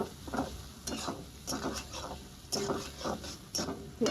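Tomato and asafoetida fry in a pan with a soft sizzle, broken by repeated stirring scrapes that come roughly every half second, close by.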